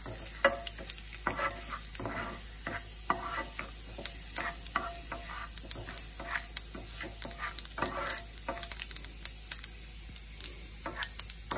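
Urad dal frying in hot oil with crackling cumin and mustard seeds while potato sabzi for masala dosa is prepared, giving a steady soft sizzle punctuated by frequent sharp pops and spatula stirring scrapes throughout.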